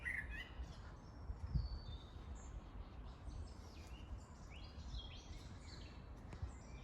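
Local birds sing in Holosiivskyi park in Kyiv, with many faint, high chirps and short trills scattered from several directions over a quiet, low outdoor rumble, and no one talking.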